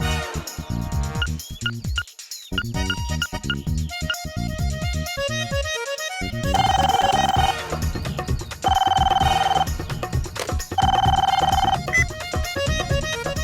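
A telephone rings in a Hindi superhero TV episode, with repeated bursts of ringing tone over a busy music score.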